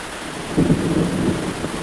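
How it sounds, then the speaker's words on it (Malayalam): Thunder rumbling low and muffled through a steady wash of heavy rain on a hot day in Kerala, one brief swell of rolling thunder rising and fading under the continuous rain hiss. "ഇടി വെട്ടുന്നുണ്ട്, നല്ല"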